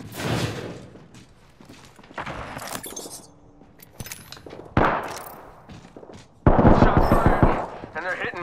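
Gunfire in Apex Legends, bursts of rapid automatic shots and sharp impacts in several loud clusters separated by brief lulls, with a character voice speaking between them.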